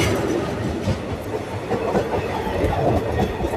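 A Guntur–Macherla passenger train rolls along its route past green countryside, a loud steady rumble with rhythmic clickety-clack of wheels on rail joints, heard from on board with no voices.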